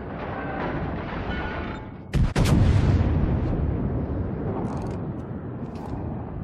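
Naval gunfire in the World of Warships game, a sudden heavy cannon blast that booms and rolls off into a long rumbling decay, loud and close.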